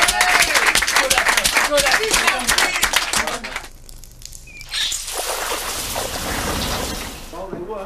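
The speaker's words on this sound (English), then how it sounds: "Well done, lads. Give yourselves a round of applause." Clapping and cheering for an amateur football team, Fash FC, in a dressing room after a match, loud and dense at first, then fading to a softer burst of claps with voices mixed in.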